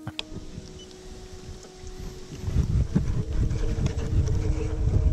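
Xiaomi M365 Pro electric scooter ridden off-road over sand and rocks, giving a rumbling, bumpy rolling noise with wind buffeting the microphone, quieter at first and then growing louder and rougher.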